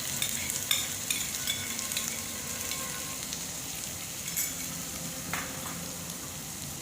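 Ginger-garlic paste, curry leaves, asafoetida and spices sizzle softly in a pan for chana masala, with intermittent spoon stirs and light scrapes and no voices.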